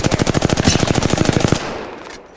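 Rapid automatic gunfire from Apex Legends rattles out in a dense, loud burst of evenly spaced shots for about a second and a half, then trails off into a fading echo.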